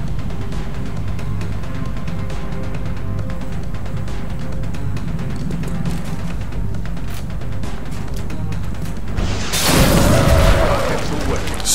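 A rocket blast in XCOM: Enemy Unknown, a single heavy booming explosion bursting out near the end after a long stretch of dense game noise and low talk, loud and close with a brief roaring tail.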